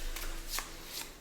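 A deck of Arkham Horror card game cards is shuffled up close, a soft quick riffle of cards fluttering for about a second, quiet and without talk.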